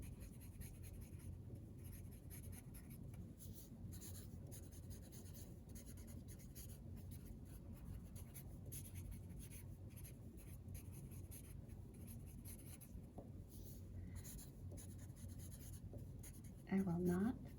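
Pen or pencil writing by hand on paper, the same strokes repeated over and over, a quiet close continuous scratching with a soft rhythmic texture throughout.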